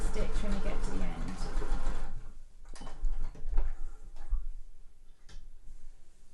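Home sewing machine stitching the seam of a fabric Christmas stocking, a steady close rattling run for about two seconds, then stopping into quieter handling noises and brief knocks.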